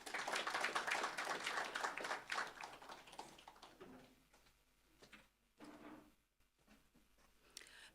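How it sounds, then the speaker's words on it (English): At a deputy minister's launch of a 4IR centre and learning factory, an audience applauds with moderately loud clapping that then thins to sparse scattered claps before fading out. "Another round of applause, please, for Dr. van Heerden."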